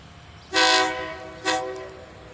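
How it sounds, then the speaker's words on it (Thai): A diesel railcar express, train 72 from Ubon Ratchathani to Krung Thep Aphiwat, sounds two loud horn blasts while departing Buriram station, a long blast followed by a shorter one. "ขบวนรถด่วนที่ 72กำลัง จะออกจาก สถานี"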